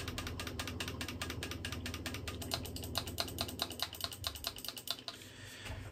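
Clicky face buttons on a Mobapad or Chitu Switch controller pressed in rapid succession, a dense run of sharp close taps that thins out toward the end, with no voices.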